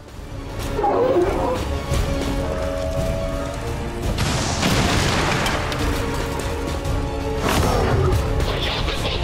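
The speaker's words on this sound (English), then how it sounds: "We can get them with the rocket and probably finish them off this turn." A rocket launcher blast in XCOM 2 booms loudly mid-scene, a broad crashing explosion layered over growling creature roars and other game noise, with a further impact toward the end.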